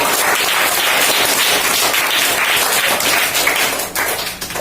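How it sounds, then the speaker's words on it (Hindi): Loud, dense applause from schoolchildren at a government school in India fills the room steadily for several seconds, a thick wash of many hands clapping close by, thinning slightly at the end. "अरे वाह जोरदार तालियां"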